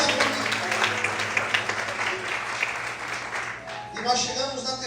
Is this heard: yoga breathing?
no